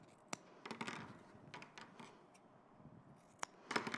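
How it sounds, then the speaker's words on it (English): Scissors snip the corners of sewn fabric to cut bulk, a few quiet, crisp clicks and cuts spaced irregularly over a soft background hiss. "I'm just now going to snip the corners"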